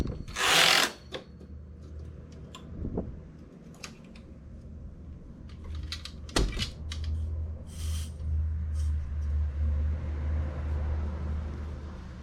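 Knitting machine carriage pushed across the needle bed after the weight is removed and the comb is held by hand, giving a rough sliding rattle of moderate loudness with scattered clicks and no speech.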